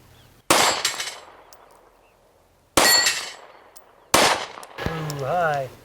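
Three sharp, loud Glock 43 pistol shots fired at roughly two-second intervals, each a hard crack with a short decaying ring, the last followed by a brief high whine; no talking.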